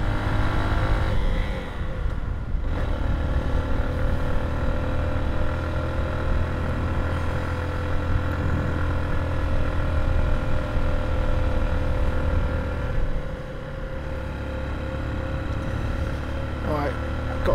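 Honda CB125F motorcycle engine pulling hard up a hill in third gear, a steady close droning rev with wind buffeting, running continuously under a rider's spoken commentary.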